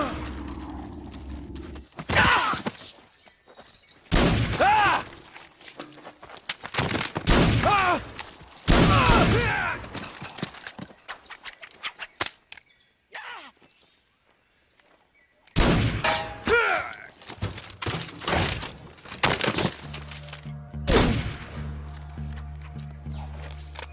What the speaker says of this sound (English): Ocelot has fired 7 shots, meaning that there's still 1 left in the chamber before he reloads.